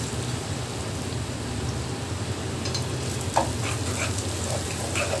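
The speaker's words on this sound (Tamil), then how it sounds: "இது ரெண்டுமே நம்ம சத்தியில் ஆட் பண்ணிடலாம். சத்தியில் சேர்த்து நல்லா கலந்து விட்டுடலாம்." Crushed ginger and garlic fry in an Indian cooking pan for a fish curry, giving a dense steady sizzle with occasional stirring scrapes, close and continuous without speech.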